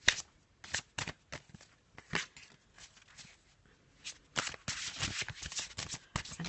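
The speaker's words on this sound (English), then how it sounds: "I'm just going to give the cards a little bit of a shuffle" A Faulkner Tarot deck is shuffled by hand, close and crisp, in a series of quick riffling bursts and soft slaps, irregular in rhythm, with brief pauses between passes.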